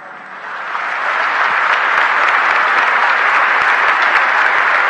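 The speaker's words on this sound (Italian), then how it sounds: "L'applauso scrosciante dei fedeli conclude l'omelia del cardinale celebrante" Thunderous applause from the faithful fills Naples Cathedral after a cardinal's homily at a Mass, a dense, sustained wash of clapping that swells over the first second and then holds steady and loud.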